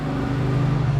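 A 1969 Chevrolet Camaro engine runs close by with a steady, deep rumble that swells slightly, with no voices over it.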